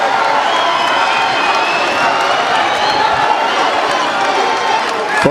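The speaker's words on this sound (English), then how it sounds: "listen to this crowd as these two faced off" A large crowd roars and cheers steadily throughout a Floyd Mayweather vs. Andre Berto weigh-in face-off, a dense, loud wash of voices with scattered shouts and clapping held at an even level from start to finish.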